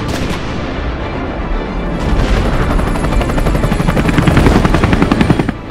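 Artillery fires in a heavy, continuous barrage: dense, loud booms and rapid blasts build over time with a roaring, rumbling wash underneath.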